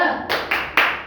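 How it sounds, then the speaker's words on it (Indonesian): A group does a rhythmic spirit clap during a group guidance session: three sharp, loud, unison hand claps in quick succession with no talk. "sama-sama tepuk semangat"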